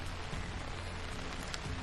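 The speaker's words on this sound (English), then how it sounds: "You can see how much water's pooling because of how much it's raining." Heavy rain pouring down with water pooling on the ground, a steady, dense hiss of falling drops, fairly faint and continuous with no voices.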